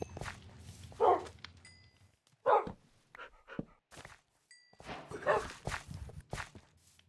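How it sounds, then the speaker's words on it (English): Dogs in Minecraft bark in short, separate yips a few times, with game footstep sounds in between and a quiet background. "Look at this, I got two dogs."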